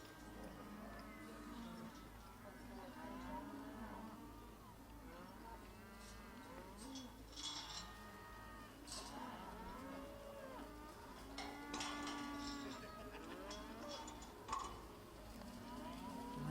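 Cattle mooing at a farm competition at an outdoor arena, several animals lowing in long drawn calls that overlap from mid distance, with a low steady hum and faint background activity throughout.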